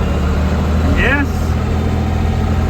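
A John Deere tractor engine runs steadily at a low idle-like drone throughout, loud and close, with a brief rising whine partway through and nobody speaking over it.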